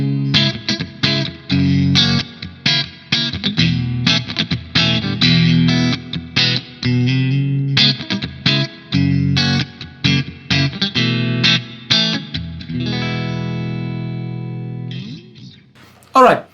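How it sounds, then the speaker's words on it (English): Electric guitar run through an orange compressor pedal into a Two Notes Torpedo CAB M, playing a busy sequence of short, punchy chords and single notes that ends in a long sustained ringing chord, with a faint noise at the very end. "Just some compression from the orange compressor"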